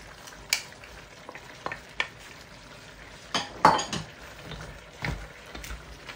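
Egg noodles and vegetables including celery stir-fry in a pan under a soft steady sizzle, broken by repeated sharp clinks and scrapes of a utensil against the pan.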